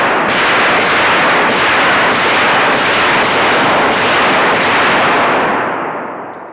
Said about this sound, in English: we're gonna do 10 rounds from an AR-15